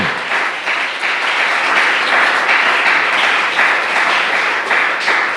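Loud, sustained applause from a church congregation during a Sunday family service, a thick continuous roar of many hands clapping close by with no talking over it.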